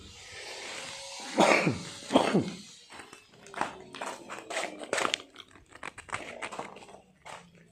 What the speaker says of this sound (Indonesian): Saya agak batuk ini kawan, berapa hari ini